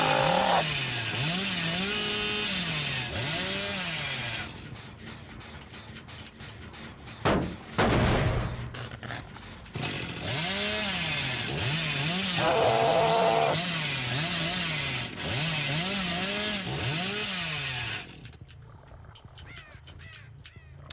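The Hillbilly's chainsaw in Dead by Daylight revving in rising and falling whines, loud and close, broken by a sharp burst and later a louder sustained rev, with crow-like caws mixed in.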